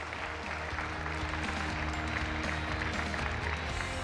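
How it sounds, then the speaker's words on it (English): A keynote-session audience applauds its speakers in a large hall, a dense wash of many hands clapping at a steady loud level throughout, with no voices standing out above it. "How about a round of applause for all of our speakers?"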